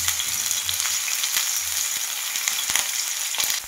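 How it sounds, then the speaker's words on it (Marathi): Bitter gourd slices spread out on a hot tawa sizzle and crackle steadily as they crisp in a little oil, with a few sharp pops and soft scrapes breaking through the continuous hiss. "सगळं कारलं मी ना तव्यावरती असं पसरून टाकलेलं आहे आणि आता एक साईड कडक झाली की दुसऱ्या साईडने ना पलटी मारून घेणार आहे."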